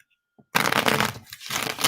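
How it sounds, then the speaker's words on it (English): Playing cards being shuffled close by, a dense riffling rush that runs almost continuously for over a second, with a brief pause before a final flurry. "Trying to shuffle up so y'all can see me shuffling these cards"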